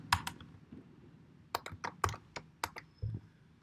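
Quick, light clicks of typing on a computer keyboard, a short irregular burst of keystrokes heard up close in a quiet room.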